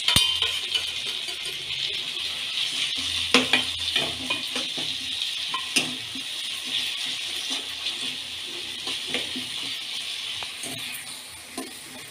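Chopped tomatoes sautéing with onions for paneer curry make a continuous sizzle, with repeated scraping and clinking as a spoon stirs the pan throughout.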